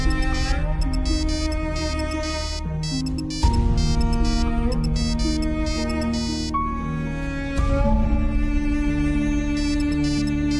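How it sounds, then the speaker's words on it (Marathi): A phone ringtone plays as a loud, steady melodic tune with repeating note patterns, sounding continuously and alone with no talk. "फोन उचला गौरीजी."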